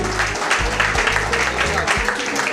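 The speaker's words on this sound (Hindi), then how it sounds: "थोड़ा सा तालियां बजा दीजिए भाई साहब" An audience at a family gathering claps steadily throughout, a dense continuous patter of many hands, with a voice talking over it.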